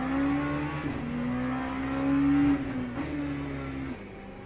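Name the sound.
race cars in Le Mans Ultimate video game at Fuji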